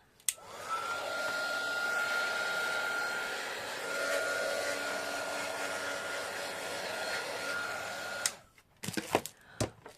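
A heat tool drying a paper scrapbooking card roars with a steady whining hum for about eight seconds, then cuts off, followed by a few close handling knocks.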